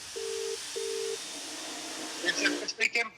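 A phone call placed to a local breakers yard: two evenly spaced ringback tones over a hissy line, then a voice answers on the phone.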